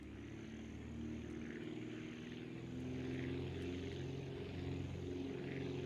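A loaded aircraft taking off roughly in the video game Aviassembly, a steady droning propeller engine hum with a slight rising buzz, continuous and fairly close, no talk.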